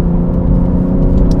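BMW G80 M3 engine with catalytic converter and particulate filter, heard from outside the car as a loud, steady mid-pitched drone with a rich harmonic growl, no talking.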